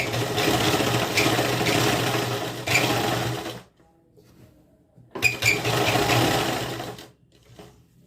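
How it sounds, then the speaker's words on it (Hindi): A sewing machine runs in two loud bursts stitching a kurti neckline along buckram, each whirring run broken by a short pause with soft fabric handling. "यहाँ बुकरम के साथ साथ बिना गले को इधर उधर खींचे हुए हम सिलाई लगा लेंगे"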